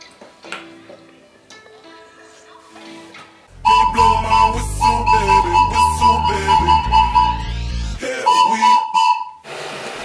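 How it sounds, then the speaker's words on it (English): A 3D-printed whistle is blown after a quiet start, giving loud, shrill, steam-whistle-like blasts with a steady pitch and a rough, hissy edge. It sounds for about four seconds, breaks off briefly, then sounds again. "these 3D printers can actually pump out some pretty good sounding whistles"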